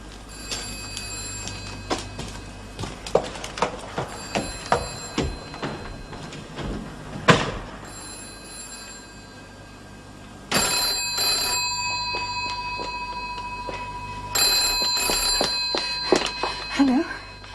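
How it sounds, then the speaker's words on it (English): An old telephone bell rings in repeated bursts amid indoor clatter and shuffling, loud and close. "Sounds like the phone's ringing."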